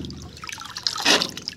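Water gurgles and trickles from a pump pipe on a farm, a short splashy burst of flowing water close by that swells briefly near the end.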